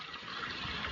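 River water flowing steadily past a lansones farm, a continuous close broadband rush with no voices over it.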